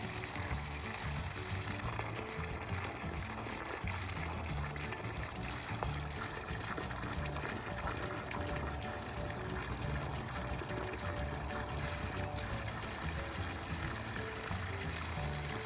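Water poured onto garden plants, a steady continuous trickling and splashing that runs throughout at moderate level, with faint birdsong in the background.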